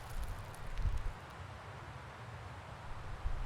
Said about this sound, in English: Ooh, it's a windy boy.